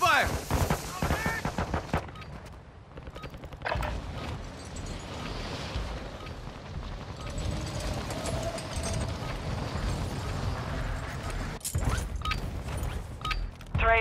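Rapid gunfire fills a battle scene in the Call of Duty: Modern Warfare II video game, dense automatic bursts and booming shots layered under constant combat noise for the whole stretch, with a sharp loud crack near the end.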